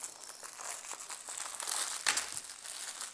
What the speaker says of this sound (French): je vais pouvoir dérouler la toile pour vous montrer